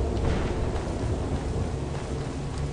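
A novice lightning spell cast in Skyrim, crackling as a steady loud roar of electric noise that runs unbroken for a few seconds with no voices over it.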